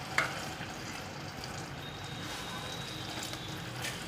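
Pav bhaji cooks in a pan with a quiet, steady sizzle and soft stirring scrapes, close but low in level, with no clear talking.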